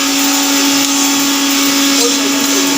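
A mixer grinder running at full speed, grinding ingredients fine for besan sweets, a loud steady whirring drone with a constant motor whine, close and uninterrupted.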